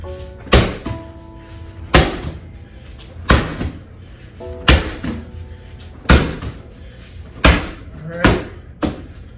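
Slam exercise during an MMA-style HIIT workout, about eight loud, heavy thuds landing at a steady pace roughly every one and a half seconds, with faint tones and a voice sounding between impacts.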